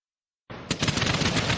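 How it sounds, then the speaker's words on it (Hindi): A string of firecrackers abruptly starts popping after a moment of silence, then rattles on in a dense, loud, rapid crackle like a machine gun, continuing without pause. "मजा आया पटाखे का धमाका सुनकर।"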